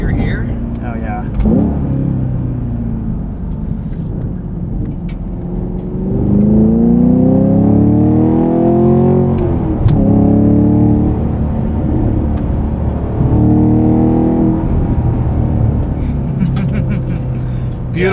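A 2023 Chevrolet Camaro SS 1LE with a manual gearbox pulls hard in second gear, its V8 rising in pitch through a long loud rev from inside the cabin while people talk over it.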